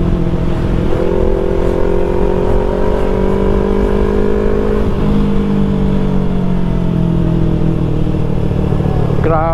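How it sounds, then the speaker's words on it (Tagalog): A 450 SR motorcycle engine revs loudly up close, its pitch climbing and falling in long sustained pulls over a rough, constant engine drone. "Napakalakas ng motor na 'yan."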